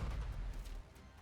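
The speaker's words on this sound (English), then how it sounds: "Why does it sound like explosions, though? It's a sword." In the video game NIKKE, a sword attack sets off a rapid string of deep, booming explosions that roll into a dense, loud low rumble over a brief burst, with no talking.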